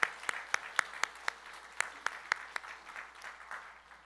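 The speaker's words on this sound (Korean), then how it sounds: "우리 감사의 박수로." Congregation claps during a Korean Thanksgiving Sunday church service, with sharp, roughly steady individual claps standing out over a softer spread of applause that tapers off near the end.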